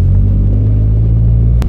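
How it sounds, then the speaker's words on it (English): Loud, steady car exhaust with a single resonator and a cat delete, a deep continuous droning rumble close by with no break until a brief dip near the end. "Currently, this car just has one resonator along with a cap delete, and it does a lot to change the sound profile of this exhaust."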